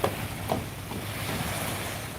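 A boat's rumble passes under steady wind and water noise near the Pamban Bridge, with no one talking.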